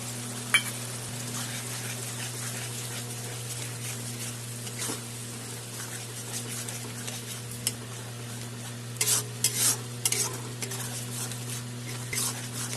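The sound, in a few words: spinach paste added to frying spices, sizzling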